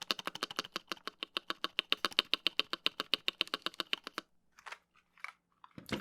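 Quick, even keystrokes clack on a Nuphy Halo 65 keyboard with an O-ring-modded spacebar for about four seconds, muted and slightly dampened, followed by a few scattered softer taps.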